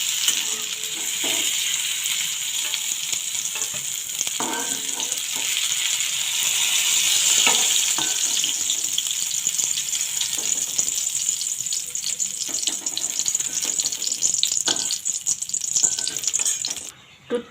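Eggplant pieces frying in oil produce a long, even sizzle with scattered spatula taps and scrapes, fading out abruptly at the end.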